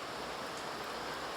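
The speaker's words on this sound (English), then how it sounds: "rain. Yeah, rain." Steady rain falls outdoors in a tropical garden where noni grows, a dense, even hiss with no pauses and no voices.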